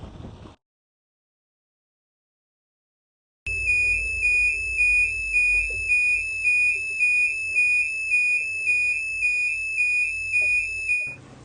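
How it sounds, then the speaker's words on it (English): A gas alarm shrills steadily inside a boat's saloon, a loud continuous electronic tone with a faint pulsing rhythm, sounding alone for several seconds over a low background rumble. "We've got a high level alarm."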